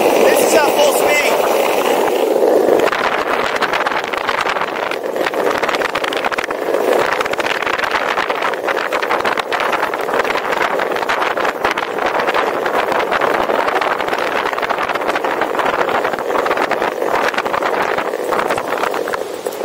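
A $100 DIY electric skateboard motor runs at full speed, giving a loud, steady whine mixed with rushing wind and road roar that continues without a break throughout.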